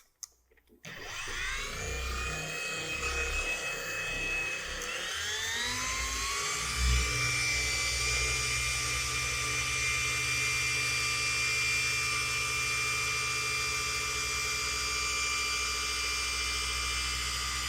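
Rotary car paint polishing machine working polish across a panel in a crisscross pattern during paint correction, its motor spinning up after a brief start, then a steady, loud high-pitched whine and hum held close.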